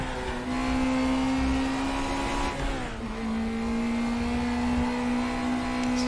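A race car engine in RaceRoom held against the rev limiter, a loud, steady high-pitched whine that briefly drops as the car shifts around the three-second mark before climbing back to a sustained buzzing scream.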